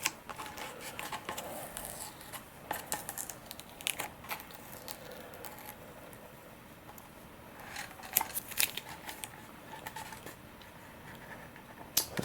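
Masking tape peeled and torn from a cured RC glider fuselage, a CCM Liberty F5J, giving a close, continuous run of crackling rips and crinkles with sharp snaps, fairly quiet and with no talking.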